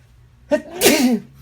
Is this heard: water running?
no